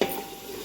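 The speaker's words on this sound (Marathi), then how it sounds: "छान भाजून घेऊया कांदा" Onion frying in a large cooking pot for a Bhogi vegetable dish gives a brief, steady, soft sizzle with faint stirring, close by and without any voices.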